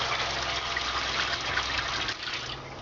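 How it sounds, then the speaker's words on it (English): A shower running inside a narrowboat, a steady hiss and gush of water spraying that is fairly loud and continuous, easing slightly near the end, with no talk. "There we go, that's the shower going."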